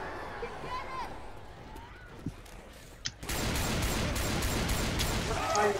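Rapid bursts of gunfire in the video game Left 4 Dead 2 erupt after a few scattered single shots, loud and sustained over a noisy background.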